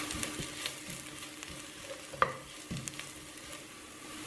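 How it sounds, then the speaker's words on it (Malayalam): Ginger garlic paste frying in a pan for egg biryani, with a steady soft sizzle and a few scraping stirs and clicks of a spoon, close and alone without talk. "അതിൻ്റെ പച്ചമണം മാറുന്നിടം വരെ ഇളക്കിക്കൊണ്ടിരിക്കണം."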